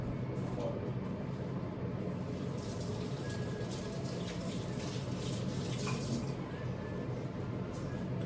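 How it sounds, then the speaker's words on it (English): Hands are washed under a running tap, a steady soft rush of water with light splashing, fairly quiet and continuous throughout. "Let me wash my hands and I'll be right back."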